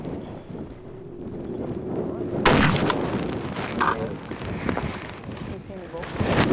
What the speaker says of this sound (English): Ralph and I came up here this year with the intent on taking a bull caribou with a muzzle with our new TC